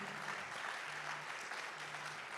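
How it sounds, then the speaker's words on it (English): Quiet, steady clapping from an audience at a university sports games launch, a soft continuous wash of claps heard at a distance with a faint hum underneath. "I think the clap is too small."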